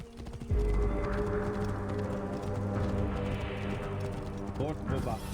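Rhythmic clip-clop of horse hooves trotting steadily in the video game Assassin's Creed Origins, with game music and ambient tones layered underneath and a brief speaking voice near the end.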